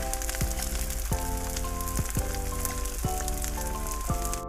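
Gond (edible gum) frying and puffing in hot fat in a cooker: a dense, steady sizzle and crackle, close and continuous for a few seconds, with faint recurring tonal squeaks.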